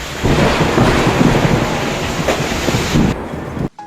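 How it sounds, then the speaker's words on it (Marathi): A deep, sustained rumble of thunder rolls on for several seconds, loud and broad, then cuts off abruptly near the end. "विजा तर खूपच कडक आहेत आणि पाऊस येण्याची पण शक्यता आहे"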